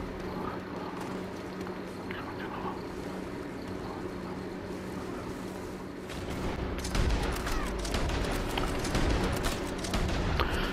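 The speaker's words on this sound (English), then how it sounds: "shot through the mountainside" Video game gunfire, a distant crackling fusillade that swells into denser, louder bursts in the second half over a constant low background rumble.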